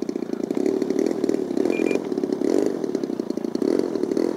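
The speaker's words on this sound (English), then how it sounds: "New engine, still breaking it in." A new glow-fuel engine on a Savage Bobber model airplane is being broken in, buzzing loud and steady with a rough, rattling pulse, throttled low and close by, with no talk.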